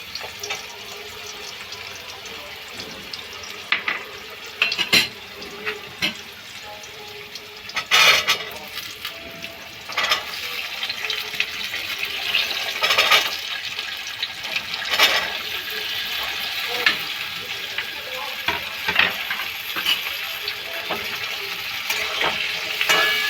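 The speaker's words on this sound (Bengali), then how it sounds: "ভালো করে ভেজে নেব" Mixed vegetables fry with cumin in oil for a paneer dish, a continuous hissing sizzle that grows louder midway, with occasional spatula knocks and scrapes, close with no talking.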